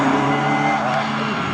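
A vintage race car on a track roars close by, a loud buzzing engine note with squealing tire noise, brief and fairly steady.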